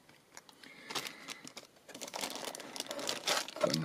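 Plastic bag crinkles and rustles as a bottle of gold-testing acid solution is pulled out of it, with irregular close crackling bursts that grow busier and louder toward the end, no speech.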